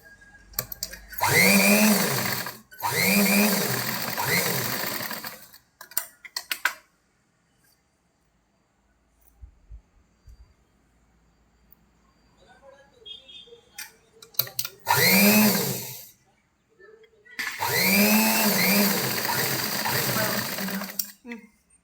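A sewing machine stitches a strip onto a princess-neck blouse in bursts of steady, close mechanical whirring, separated by pauses with quiet handling of the fabric.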